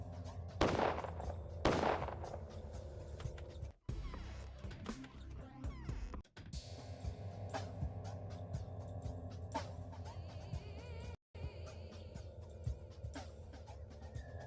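A player fires a gun in the video game Pathologic: two loud, close shots ring out early and then fade into a shifting, noisy game soundscape with short breaks of silence.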